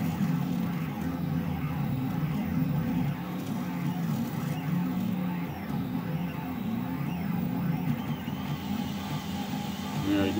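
A delta 3D printer's part cooling fan runs at high speed, giving a steady, loud whooshing drone with a low hum that carries on unbroken.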